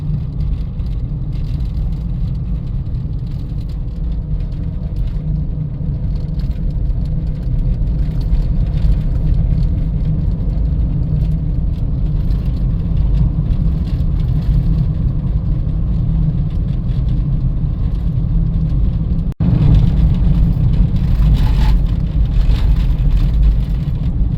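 A 1984 Dodge Mini Ram truck cruising on the road, its engine droning in a steady mid-pitched hum with road and wind rumble, loud and continuous, a faint click near the end.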